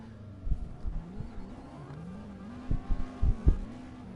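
A Nissan Skyline GT-R R33 engine revs in the CarX Drift Racing video game, a faint low droning note rising and falling with a few sharper throttle blips near the end.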